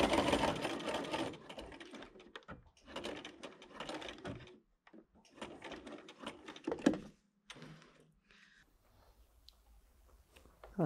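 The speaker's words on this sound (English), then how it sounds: "I'm just going to join up where we did our closing of the gap, just to top stitch down, just so we carry on with this line of stitching" A sewing machine top stitching a fabric sunglasses case, running in several bursts of fast rhythmic needle chatter separated by pauses and small clicks, close and fairly quiet.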